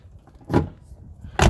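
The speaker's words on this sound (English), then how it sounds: "let's listen to the door when we close it" An older car door with a squeaky, sticking hinge being worked after grease treatment gives two close, heavy thuds about a second apart, each brief and solid.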